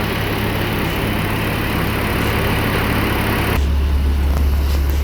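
A 2017 Maserati Levante 3.0 Sport with about 119,000 km and dual mufflers idles with a loud, steady engine hum and vibration, its tone shifting deeper partway through.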